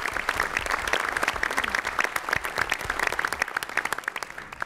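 A crowd at a state government conference on community reconstruction gives a sustained, loud round of applause for newly honored county executives, many hands clapping in a thick, even roar throughout.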